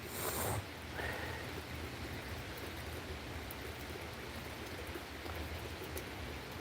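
Steady rain falls outdoors as a soft, even hiss of drops on surfaces, continuous and fairly faint, with a brief brighter splash at the start and no talking.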